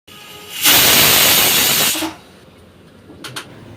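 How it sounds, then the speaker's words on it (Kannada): A pressure cooker lets out a loud steady hiss of escaping steam for over a second, then cuts off, followed by a couple of faint clicks. "ಕುಕ್ಕರ್ ವಿಷಲ್ ಆಗಿದೆ"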